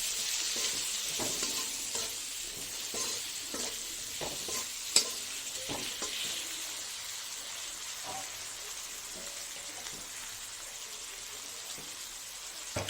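Fish with vegetables, salt, turmeric and red chilli sautéing in a pan: a soft continuous sizzle with periodic spatula scrapes and stirs, close but fairly quiet.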